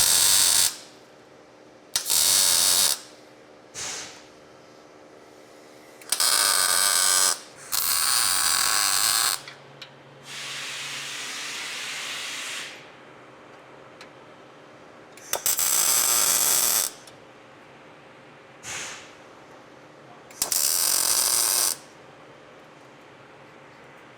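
Tack welding short steel brace pieces and a gusset onto a Marlin Crawler lower control arm, with several loud, separate bursts of crackling arc lasting one to two seconds each, broken by quiet pauses and some faint handling noise.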